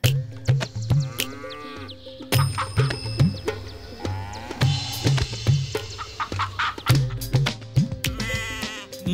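Poultry at a farm raising native chickens, with repeated clucks and calls mixed with other livestock bleats, close and fairly loud, in irregular bursts across the whole stretch.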